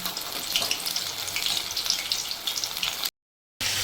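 Lote fish pakora, coated in biscuit crumbs, frying in hot oil: a steady, dense crackling sizzle fills the clip close up, then cuts to silence for about half a second before resuming.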